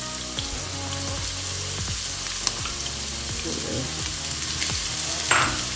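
Onions dropped into hot oil with cumin seeds, frying with a loud, steady, close sizzle and several scraping strokes of a spoon stirring the pan.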